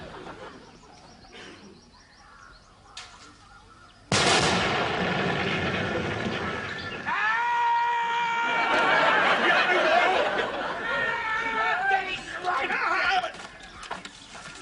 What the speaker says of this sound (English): Who fired the mortar?